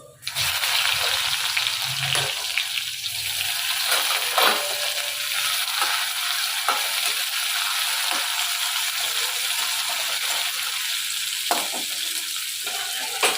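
Dried red chili and chopped onion frying in hot oil in a wok, a loud steady sizzle throughout with occasional sharper crackles and scrapes of stirring.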